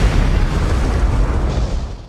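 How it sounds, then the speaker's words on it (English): A grenade blast bursts through a wall, a loud, dense roar of rumbling noise that holds steady and slowly fades out. "Chester chucked a grenade that busted through the wall."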